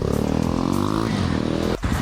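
A Kawasaki KLX 230 motorcycle with a newly fitted exhaust runs steadily close by, a loud, even engine drone that dips briefly near the end before picking back up.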